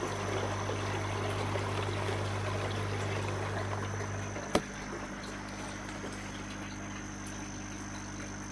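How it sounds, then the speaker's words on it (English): An air pump rated at 45 litres an hour bubbles water inside an aquarium trickle filter box full of foam, ceramic and plastic media, a steady soft trickling and gurgling wash with a low hum and one sharp click partway through. "And then that one's just bubbling away in there."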